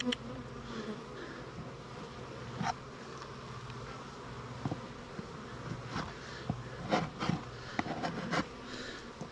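Bees buzz around close by, a continuous droning hum with individual insects flying past the listener, growing busier toward the end.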